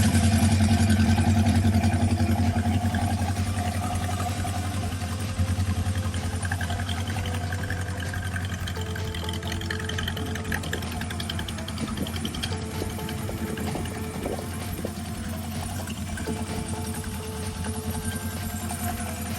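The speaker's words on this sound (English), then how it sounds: "The bike is idling a little bit high" A 1977 Honda CB750A Hondamatic motorcycle engine idles a little high. It gives a steady, close, continuous rumble that stays even throughout, with no talking over it.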